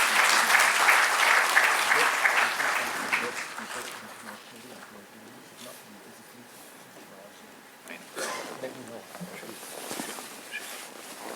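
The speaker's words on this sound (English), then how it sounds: "May I please have a warm round of applause." Loud applause from a crowd in an auditorium at the Delhi Arbitration Weekend closing session fills the opening seconds, fades to a quieter patch, then swells again into renewed clapping near the end.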